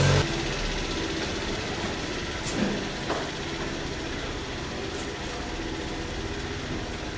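A car engine hums steadily, close by in a narrow old-town street in Cahors. The low, continuous drone carries a faint clunk or two and persists throughout.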